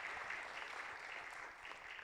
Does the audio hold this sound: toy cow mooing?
no